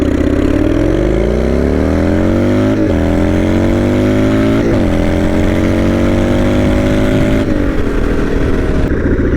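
A turbocharged motorcycle with the boost turned up and a worn, slipping clutch pulls from a near stop, its engine loud and close, rising in pitch through several gear changes with brief dips between.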